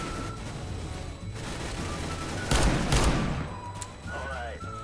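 Magnum sniper rifle fire in CS:GO, one loud sharp crack with a brief echo over background game noise, and someone talking faintly around it.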